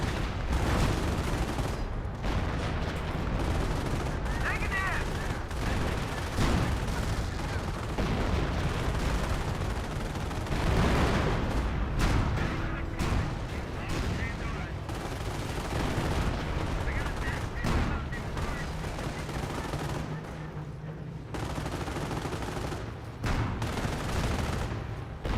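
Company of Heroes battle with Flak 88s, snipers and Goliaths: dense, continuous small-arms and machine-gun fire with bursts and booms throughout, loud and busy, under a commentator's voice.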